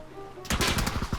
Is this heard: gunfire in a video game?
yes